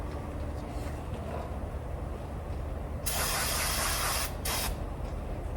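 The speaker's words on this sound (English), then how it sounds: "Now that we've got our brake cleaner, spray it on a rag, just wipe them really good." An aerosol can of brake cleaner sprays onto a rag in a steady hiss for about a second, pauses briefly, then gives a short second burst over a low background rumble.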